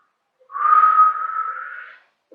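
A single breathy whistling attempt rises and holds a wavering airy tone for about a second and a half before trailing off, close and fairly loud against near silence.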